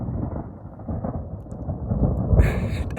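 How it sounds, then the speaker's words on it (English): Low rolling thunder rumbles on Mount Baldy during light rain, a broad continuous growl that swells louder near the end, with a brief brighter crackle late. "Thunder means lightning."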